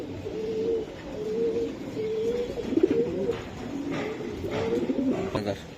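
Racing Giribaz pigeons coo nearby in repeated low, warbling phrases, with faint rustling and scattered background noise.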